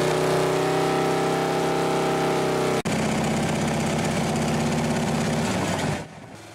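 A motorcycle engine runs loudly and close for a noise-level comparison, a steady droning idle that cuts out briefly, restarts at a rougher throb and then drops away sharply near the end.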